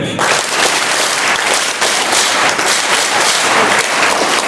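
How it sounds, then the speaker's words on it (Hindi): Loud, close applause from a large crowd at a college event, a continuous dense roar of clapping that holds evenly throughout. "चाहेंगे कि उनके लिए एक बार बहुत अच्छे तरीके से क्लैपिंग हो जाए"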